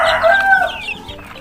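KUB chickens clucking in a shared coop, with a rooster among them, a short burst of close, busy fowl calls.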